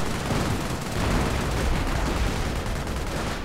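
Gunfire and artillery from a 2v2 Company of Heroes match form a dense, continuous rattle of overlapping shots and rumbling blasts, loud and unbroken throughout.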